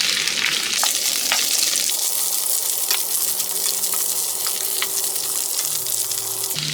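Sliced okra sautéing in hot cooking oil over medium heat for a restaurant-style bhindi masala, a steady close sizzle and crackle running throughout with a few light clicks of stirring.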